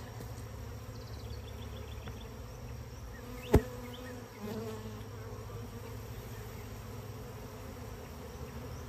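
Honeybees buzzing steadily around broken comb in a messy hive removal, a faint continuous drone with a single sharp knock partway through.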